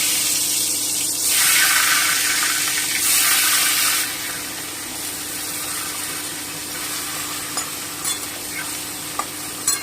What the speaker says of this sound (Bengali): এবারে আঁচটা কমিয়ে দিয়ে আমি বেগুনগুলো ছেড়ে দিচ্ছি